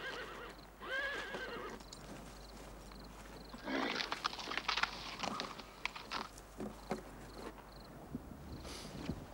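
A horse whinnies, followed by scattered hoof clatter and rustling movement, fairly quiet and distant with faint background noise.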